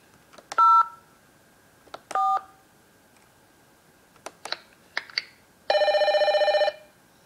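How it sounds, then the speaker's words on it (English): Telephone keypad tones dial the number 504, with three separate beeps at uneven gaps, a couple of faint clicks, then a longer buzzing tone near the end, clear against a quiet background. "Dial this number. 504."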